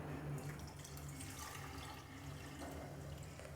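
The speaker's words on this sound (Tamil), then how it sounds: "2 கப் சர்க்கரைக்கு 1 கப் தண்ணி சேர்த்துக்கலாம்" Water running and splashing into a pan of sugar while making Mysore pak syrup, two cups of sugar to one cup of water, a steady close, trickling pour lasting a few seconds with no talk.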